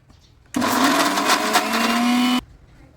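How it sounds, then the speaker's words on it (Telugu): A mixer grinder runs loud and close on hibiscus flowers in a roughly two-second burst of high-pitched whirring, starting and stopping abruptly with near silence on either side. "ఇప్పుడు మందార పూలు ఒకసారి ఇంకొకసారి గ్రైండ్ చేసుకుందాం మందార పూలతో"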